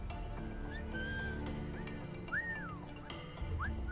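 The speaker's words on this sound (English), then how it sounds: "I'm whistling at you, can't you hear me?" Whistling by the player character in Assassin's Creed IV Black Flag, a few short rising and falling whistle notes spread over a busy game soundscape with faint horse-like ambience, no talk over it.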